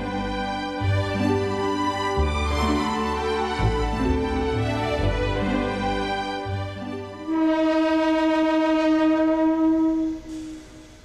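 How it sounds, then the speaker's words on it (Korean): A train pulls out of the station carrying students home from a school trip to Gyeongju, with steady rumbling, clattering wagons and a long sustained horn or whistle tone in the final seconds. "드디어 기차가 출발하고"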